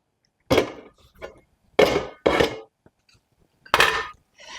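Browned ground beef being scraped and knocked out of a pan, several loud separate clanks and scrapes with silence between them.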